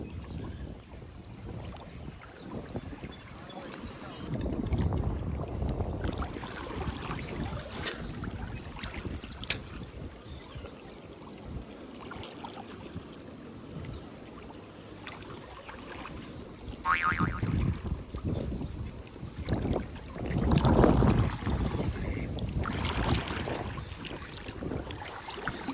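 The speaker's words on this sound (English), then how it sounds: "I hate this wind." Gusty wind buffets the microphone beside a river while fishing, a rough low rumble that rises and falls across the whole stretch, swelling strongest near the end.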